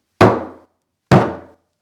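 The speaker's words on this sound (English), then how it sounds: "I'll be using this traditional Irish instrument called a Bodhran." Two resonant strikes on a bodhran, a traditional Irish frame drum hit with a tipper, each a deep booming thump with a short decaying ring, spaced about a second apart and heard alone.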